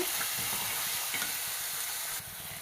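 Chopped vegetables for a vegetable parotha sizzle and fry steadily in a hot pan, a continuous crackling hiss with faint stirring scrapes, without speech.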